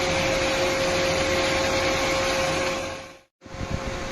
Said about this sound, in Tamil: இப்போ நீங்க கேட்குற சவுண்டு தான் வந்து நம்ம ஆக்டிவ் கூலிங் அப்படின்னும்.